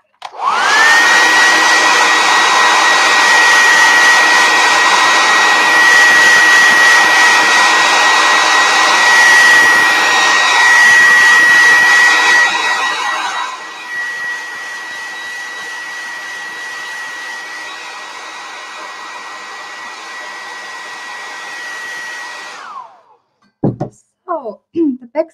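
A hair dryer blows on hair coated with olive gold sparkling gel, a loud steady whir up close that softens partway through, then cuts off, followed by a few light knocks.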